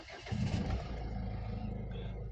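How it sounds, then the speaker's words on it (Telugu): A 2016 Ford EcoSport Titanium Plus diesel engine cranks and catches, then settles into a steady, close low idle rumble with no talking. "రైట్ సార్, కార్ అయితే స్టార్ట్ చేశాను."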